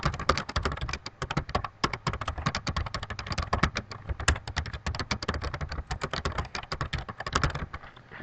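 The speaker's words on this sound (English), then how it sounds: "I'm just going to type it." Rapid, steady keystrokes on a computer keyboard, close and crisp, clicking in quick irregular bursts for several seconds without any voice.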